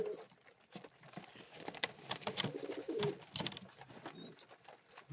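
Racer pigeons coo inside a loft among nest boxes holding eggs and a white chick, soft repeated cooing with wing patter and shuffling close by, no talk.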